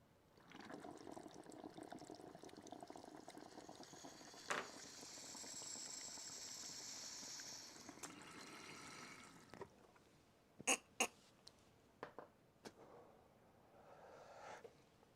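Water bubbles and gurgles in a glass water pipe as it is smoked, a few seconds of soft continuous bubbling followed by quiet clicks and short sharp knocks, close and fairly faint.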